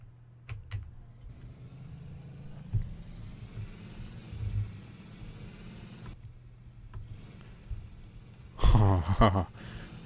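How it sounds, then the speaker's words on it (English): A car driving through a tunnel in the Rigs of Rods driving simulator: a steady engine drone with a few thumps, ending in a louder burst of noise near the end, with no voices. "We have to drive through the tunnel."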